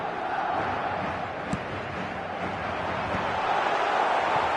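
Steady stadium crowd roar in a football video game during a Real Madrid match, a dense continuous wash of chanting and noise with one brief sharp click partway through.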